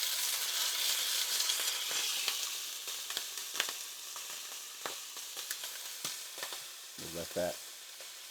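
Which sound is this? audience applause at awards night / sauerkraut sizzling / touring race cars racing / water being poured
sauerkraut sizzling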